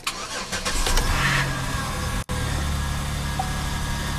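A 2006 Acura TL engine starts with help from a jump box, the starter cranking briefly before the engine catches and settles into a steady idle, heard up close.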